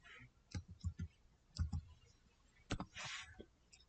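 Close, irregular keyboard keystrokes while a command is typed on a computer, clustered taps with short pauses between them and a brief louder patter near the end, no voices.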